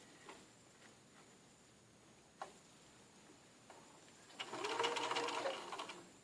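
A few soft clicks and taps lead into a brief, close burst of a sewing machine stitching a quarter-inch seam on a small patch pocket, running for under two seconds before easing off.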